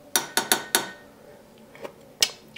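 Spoon clinks against a glass as a homemade drink concoction is stirred, four quick bright taps in a row, then two more isolated clinks after a pause, close and moderately loud.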